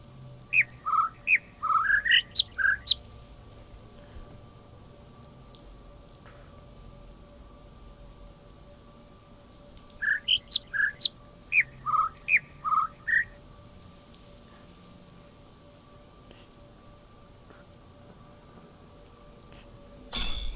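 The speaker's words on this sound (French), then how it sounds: "Oh, c'est vraiment des bâtards les oiseaux." Birds in the puzzle video game The Witness chirp and squawk in two bursts of rapid, rising whistled calls, about seven or eight notes each, separated by a long quiet stretch over a steady faint hum, with no speech.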